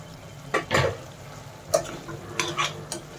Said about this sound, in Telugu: 2 పచ్చిమిర్చి ఆయిల్లో వేయించుకోండి, ఇప్పుడు వేయాలండి.